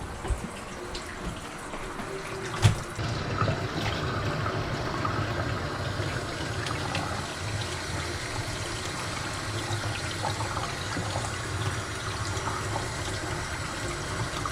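Warm tap water runs steadily into a sink, rinsing a tie-dyed tee, a continuous close hiss and splash with one brief clunk early on and no talking.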